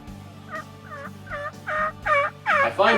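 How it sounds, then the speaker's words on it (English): Several wild turkeys gobble in spring woodland, a series of about seven rattling calls that grow louder and more overlapping over a few seconds, carrying from a moderate distance over a low steady background. "Got about 4 birds back here gobbling in the woods"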